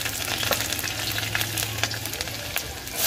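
Ginger and garlic frying in hot mustard oil with cumin and asafoetida, a steady close sizzle and crackle with light stirring, no talk.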